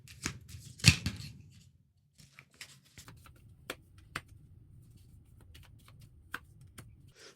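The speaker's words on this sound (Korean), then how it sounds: "추가 카드 뽑아보겠습니다." Tarot cards being drawn and shuffled, a cluster of papery flicks and a sharp snap near the start, then sparse quiet card clicks and slides spaced through the rest, close and soft with no talking.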